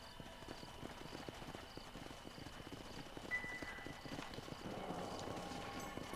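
Horse galloping in the video game Red Dead Redemption: a steady, rapid clip-clop of hooves, moderately close, running for several seconds with a faint whinny-like tone.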